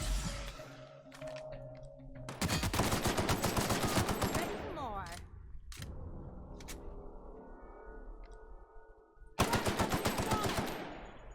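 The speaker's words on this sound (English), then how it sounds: "Who the fuck is shooting at me?" Rapid automatic gunfire in The Outer Worlds: long, loud bursts of shots crackle in two main stretches over a droning ambient tone, with a brief sweeping whine between them.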